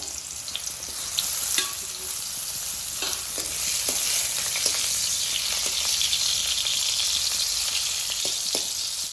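Cut pointed gourd (potol) fries in a little hot oil, a steady close sizzle with occasional light clicks of stirring scattered throughout.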